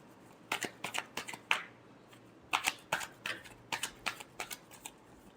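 Tarot cards being shuffled, heard as close, crisp riffling bursts in two quick sequences separated by a short pause, with no talk.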